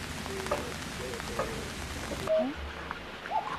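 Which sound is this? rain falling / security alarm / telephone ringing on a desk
rain falling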